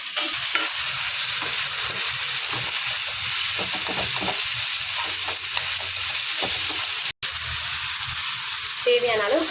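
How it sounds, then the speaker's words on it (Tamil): Onion, tomato and garlic sizzle steadily in a frying pan, with a continuous hiss broken by scraping stirs of a spoon, close and loud throughout. "இப்போ நம்ம போட்ட வெங்காயம் நல்லா வதங்கிடுச்சு இந்த டைமில் வந்து நம்ம தக்காளியும் பூண்டு போட்டுக்கலாம்"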